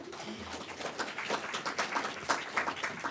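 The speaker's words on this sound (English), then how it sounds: "you guys aren't really applauding that hard" Light, scattered applause from the audience at an indoor tax policy forum, a thin patter of claps that stays fairly soft and steady, with brief murmurs beneath it.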